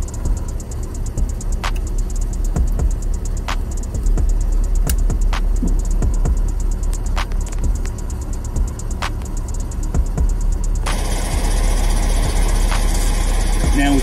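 A semi truck's diesel engine idles steadily and close by, with a low throbbing rumble and repeated sharp clicks and clanks from the fifth wheel area; someone talks over it.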